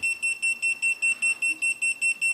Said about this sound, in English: It starts beeping when it's at 30, I believe.